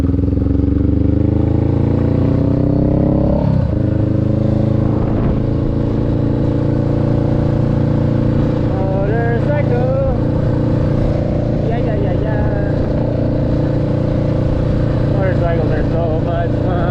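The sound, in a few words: motorcycle engine while riding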